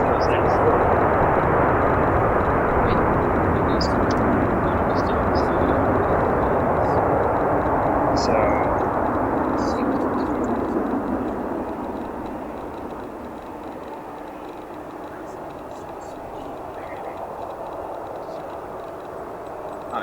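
A Delta Airbus A320, first delivered to Northwest Airlines in 1998, roars at O'Hare airport, loud and steady at first and then fading gradually into the distance, with a voice talking over it.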